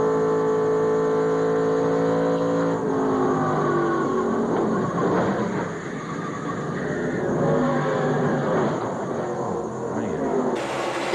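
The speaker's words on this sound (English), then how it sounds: "Hermie Sadler had bounced off the outside wall. And there's the lick to the inside wall." A NASCAR stock car's engine drones from an in-car camera, then breaks into rough, noisy scraping and banging as the car hits the wall, with the engine roar continuing loudly throughout.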